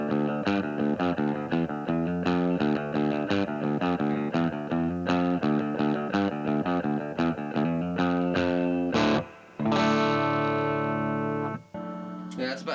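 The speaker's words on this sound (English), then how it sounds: "let me put a little bit of reverb on that" An electric guitar plays through a Fender Vaporizer amplifier with reverb, a run of distinct picked notes followed by a sustained strummed chord that rings out and decays, loud and close.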